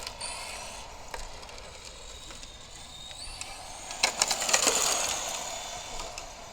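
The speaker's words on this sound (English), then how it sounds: "And it is low down, so you can hear it clicking the odd stone." Sharp irregular clicks and ticks of a low-slung Tamiya McLaren Senna RC car's plastic underside striking small stones on tarmac, over a faint whirring motor, growing busier and louder toward the middle.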